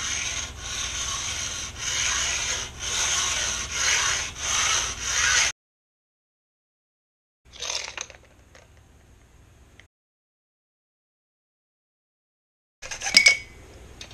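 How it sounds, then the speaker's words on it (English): Hacksaw cutting a carbon fiber tiller extension for a Laser dinghy, a run of steady rhythmic strokes up close, then silence, a short scrape and a final brief burst of sawing. "just make sure with the hacksaw you go straight"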